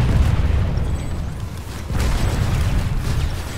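Tank fire and explosions in the video game Planetside 2 make a dense, continuous booming rumble with heavy low-end roar, briefly dipping before surging back loud.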